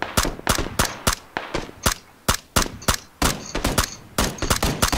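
Rapid bursts of gunfire in the video game PlayerUnknown's Battlegrounds crack loudly in irregular clusters, shots close and sharp, some firing in quick automatic strings.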